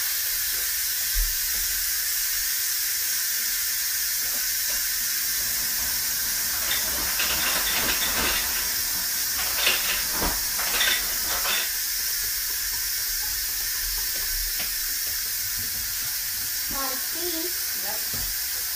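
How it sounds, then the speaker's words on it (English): An Instant Pot lets off a quick steam release, a loud continuous high hiss lasting the whole stretch, with faint clatter and brief voices in the background. "I'm going to do a quick steam release."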